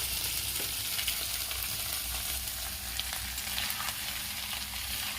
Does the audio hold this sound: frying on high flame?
yes